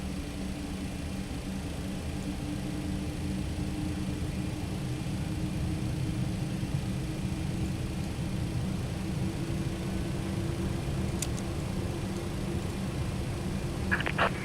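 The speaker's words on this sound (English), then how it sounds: "Start engine 1 now." An MD-11 jet engine spooling up in a flight simulator, heard as a steady low rumble and broadband roar with a rising tonal hum, constant and moderately loud, with a few faint clicks near the end and no speech.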